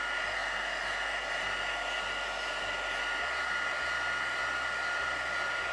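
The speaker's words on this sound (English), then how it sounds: "I'm going to start heating a bit on the back of the card." Heat gun blowing steadily on the back of a card to warm it before ink embossing, a constant close airy roar with no pauses and no talk.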